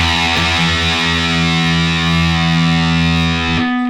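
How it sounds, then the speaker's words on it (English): A heavily distorted electric guitar drones on a sustained low E, played as an E on two strings together, loud and steady, ringing for several seconds before cutting off abruptly. "So you get this kind of droning, heavy effect."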